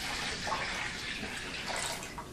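Tap water runs steadily into a home brewing bucket while making a pale ale from an extract kit, a continuous close rushing and splashing with no talk over it.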